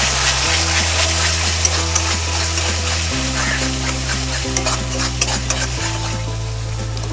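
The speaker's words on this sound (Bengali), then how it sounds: "আবার ভালো করে কষিয়ে নেব।" Egg curry masala frying and being stirred in a pan, a steady close sizzle with scraping spoon strokes throughout, no voices.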